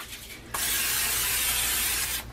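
A steady aerosol spray hisses for about two seconds, loud and close, starting abruptly and cutting off cleanly.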